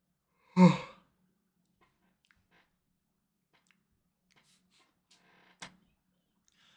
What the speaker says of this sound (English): Sorry if I'm yawning a bit too much.